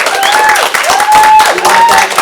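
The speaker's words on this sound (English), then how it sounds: "Give her a round of applause" A small live audience at a radio lounge session claps and cheers briefly and loudly, over a short sung or spoken tone and some talking.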